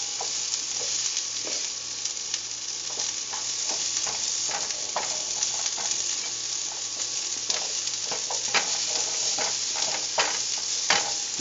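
Asparagus sautés in a hot pan for a Chinese-style garlic sauce, a continuous close sizzle broken by frequent scraping and tapping as the spears are kept moving.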